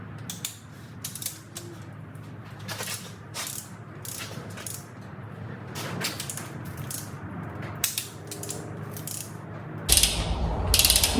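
A torque wrench ratchets in a string of quick clicking bursts while tightening bolts on a 302 engine rebuild, the pawl chattering close by, ending with a sharper clatter near the end.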